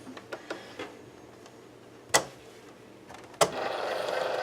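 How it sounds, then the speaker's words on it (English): Cricut cutting machine slicing a vinyl design, heard as a few light mechanical ticks and two sharp clicks, followed by a steady soft whir of the carriage moving, fairly quiet and close. "And it's going to cut out the Kiss Me part."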